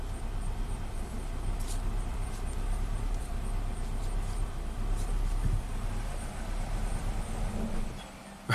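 A Nissan Sentra engine with a torn air tube idles rough, a low uneven rumble with irregular stumbles that stays steady and moderately close for several seconds, nobody speaking.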